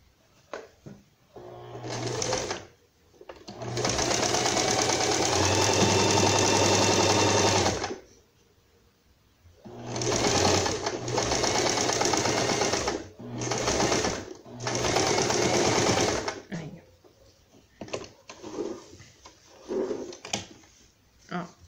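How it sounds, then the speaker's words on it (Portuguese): A sewing machine runs a straight stitch along fabric for a pet jacket, in several bursts: one long steady run, then a few shorter runs with brief pauses, stopping and starting close by. A person talks between the runs. "vai passar uma costurinha reta aqui"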